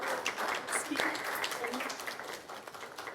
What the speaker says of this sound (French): On peut applaudir Patrice Abdurrahman.